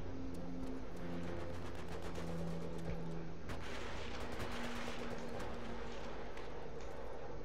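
A tank battle in World at War sounds out as rapid bursts of gunfire with sharp repeated cracks over a steady engine drone, fairly faint and continuous throughout.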